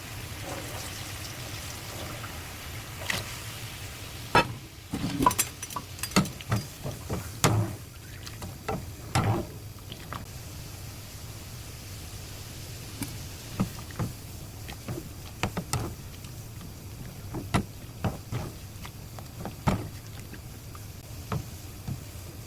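Burdock root blanches in a pot of boiling water with vinegar, giving a steady low bubbling rumble with scattered soft pops and clicks throughout.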